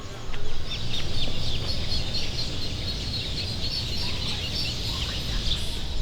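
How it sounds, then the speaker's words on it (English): Chickens clucking and calling around a resort in Punta Cana, DR, a steady chorus of fowl cackles at moderate distance over a continuous background hiss, with no talk. "I like the birds."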